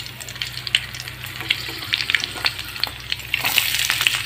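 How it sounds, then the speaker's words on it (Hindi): Chopped chilies and cumin frying in oil for upma, a close, busy sizzle and crackle with repeated scraping strokes of a spoon stirring the pan. "अब मैं इसमें कटा हुआ मिर्च डालूँगी, जो आप देख सकते हैं। और इसे हिलाते हैं"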